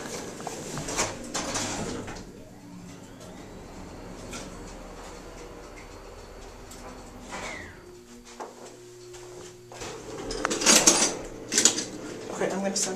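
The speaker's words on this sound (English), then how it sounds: "And it just comes right at me, this door." An Otis bottom-drive traction elevator door sliding in an old building, heard as scraping, clattering mechanical rolling that builds toward the end, with relay clicks and someone talking throughout.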